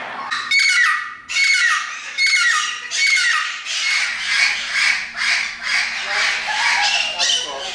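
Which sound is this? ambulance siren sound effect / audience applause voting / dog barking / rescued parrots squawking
rescued parrots squawking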